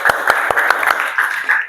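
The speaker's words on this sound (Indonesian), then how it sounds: "Tepuk tangan untuk kita semua." A vocational high school class of tenth-graders claps together in a classroom, a brief burst of quick, rhythmic applause from many hands that fades slightly toward the end.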